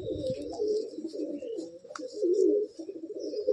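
A black-green pigeon coos steadily up close, a low rolling warble that carries on for several seconds, dips briefly, then swells again. No one speaks.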